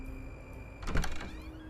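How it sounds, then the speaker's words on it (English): A door swings open with a soft creak and thunk in the middle, set against a quiet background hum with faint muffled music. "and the door swings open."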